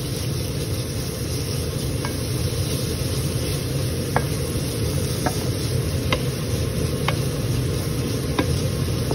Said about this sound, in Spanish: Entonces vamos a freír el bacon.